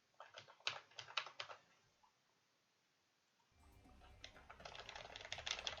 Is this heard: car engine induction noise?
no